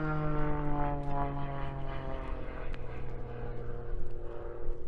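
Propeller-driven aerobatic aircraft flying a championship freestyle routine, its engine a steady, fairly loud drone with shifting pitch through spins and a high-G pull, heard alone with no talk.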